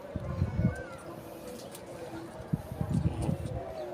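Domestic pigeons being treated for pox make low, rounded cooing bursts, one early and a longer run later, close by against steady background noise.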